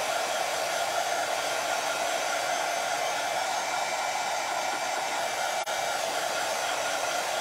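A heat tool blows steadily on a plastic tile to dry its paint, a constant loud broadband whoosh with no break for the whole stretch and no voices.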